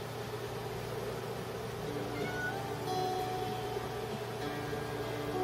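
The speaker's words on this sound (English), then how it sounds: "it's nice to have a cat's meow in there" A cat meows a few times within a song playing in the background, the meows faint and mixed into steady music.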